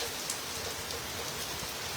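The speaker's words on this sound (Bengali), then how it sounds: "এখন দেখছেন পুরা ভারী একটি বৃষ্টি নেমে গেল মুহূর্তের ভিতরে" Heavy rain pours down in New York amid gusty stormy wind, a dense steady hiss of drops drumming on surfaces, close and continuous with no voices.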